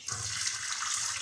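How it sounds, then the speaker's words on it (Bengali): Tap water running steadily in an outdoor kitchen area under construction, a continuous broad hiss with a low rumble, close and fairly loud, with no talking. "জল বেরোয়।"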